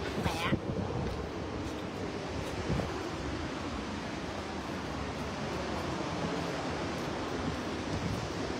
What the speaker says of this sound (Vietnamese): coi cái suối kìa. Dữ dội ha, suối quá đẹp luôn.